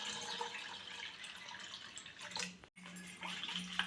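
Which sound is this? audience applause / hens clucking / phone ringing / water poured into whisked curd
water poured into whisked curd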